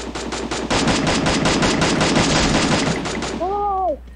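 Rapid automatic gunfire in the Free Fire battle game, loud sustained bursts of shots lasting several seconds, followed by a brief rising electronic tone at the end, with no speech over it.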